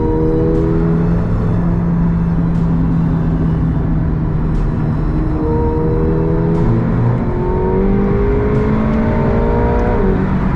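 A 1,000 HP turbocharged McLaren 720S accelerates hard, with a loud, close engine drone whose pitch climbs through several gears in rising sweeps, punctuated by sharp shift cracks and turbo whir.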